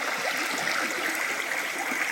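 A babbling brook flows over moss-covered banks on a large wooded Maine property, giving a steady, close rushing and trickling water sound with no pauses and no voices.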